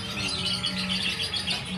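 A caged songbird offered for sale chirps in quick, bright bursts of song that keep going, close and fairly loud, over a low steady hum in the background.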